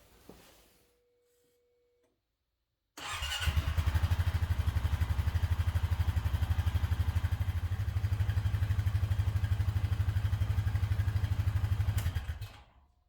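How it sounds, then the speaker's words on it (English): A 2019 Honda Rancher 420 ATV engine starts after a near-silent pause and then idles steadily and loudly with a rapid, even mechanical ticking, running alone for several seconds before cutting off. "Then we're going to start the engine, let it run for about 5 minutes"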